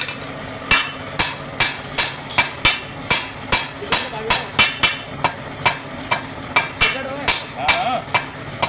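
A hammer strikes something in steady, evenly spaced blows, sharp metallic knocks repeating close and loud, as part of lighting a cigarette without matches.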